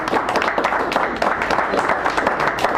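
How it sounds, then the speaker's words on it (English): An audience at a poetry reading in a San Francisco cafe claps warmly, a dense, close patter of hands lasting a few seconds without pause. "Nice round of applause"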